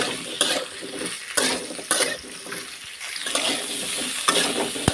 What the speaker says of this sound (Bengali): এবার এটাকে একটু হালকা ভাজা ভাজা করে নেব